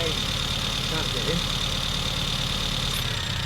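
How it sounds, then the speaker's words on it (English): A classic Mini's engine idles steadily at the London to Brighton run's 60th anniversary as it starts charging from the alternator; a close, continuous hum runs throughout with people talking nearby. "Did you hear that engine note change, boys? And that is now charging"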